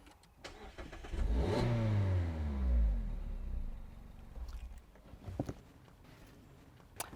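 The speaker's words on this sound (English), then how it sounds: "to start the car, I just put my foot on the clutch and press the start button." A Mazda MX5 starts at the push of a start button: a brief starter whir, then the engine catches and revs up before settling into a steady idle, close by, with a couple of faint clicks afterward.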